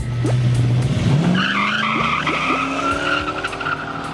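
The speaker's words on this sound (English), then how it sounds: "Now we're gonna hit the streets in my wife's El Camino with its brand new Gearstar 4L60E." A Chevrolet El Camino with a new Gearstar 4L60E transmission and a Yank converter, rated around 420 horsepower, launches hard on the street. Loud tire squeal rises and holds over the engine's climbing roar, with no talk.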